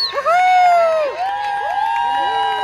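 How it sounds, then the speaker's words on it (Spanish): A crowd of fans at Expo Wasabi, a Children's Day event, cheers and whoops loudly, with many high excited voices rising and falling together in a continuous roar. "Fuerte el aplauso nuevamente con todo de la fanática."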